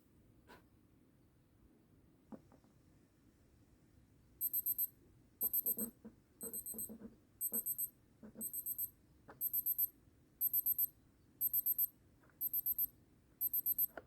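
A Casio DW-290 digital watch sounds its timer alarm, a steady run of about ten short, bright beep bursts repeating close by after a quiet stretch with a few faint clicks.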